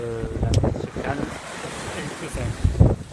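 Wind and sea noise aboard a sailboat on open water, with a steady broadband rush of wind over the microphone and a few louder splashes of waves against the hull near the start and end.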